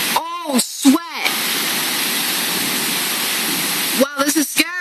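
Heavy rain pours down in a violent thunderstorm with strong winds, a loud steady roar that fills the middle of the clip, with excited shouting voices at the start and end.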